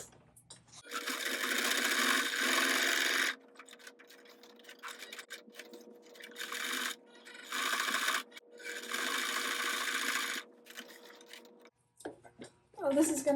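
Bursts of an electric sewing machine stitching around a fabric project, whirring loudly for a few seconds at a time between pauses, with quiet talk and small handling sounds in the gaps.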